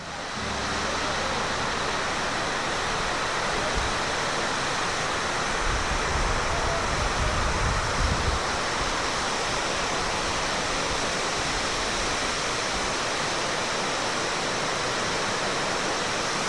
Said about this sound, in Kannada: ಫುಲ್ ಮಳೆ ಸ್ಟಾರ್ಟ್ ಆಗೋಯ್ತು.